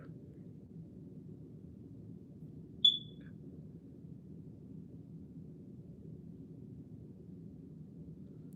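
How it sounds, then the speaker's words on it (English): A smoke alarm with a low battery gives a single brief, high electronic chirp partway through, standing out against a quiet, steady low hum in an otherwise still room. "It's not like the fire alarm is going off. It's just"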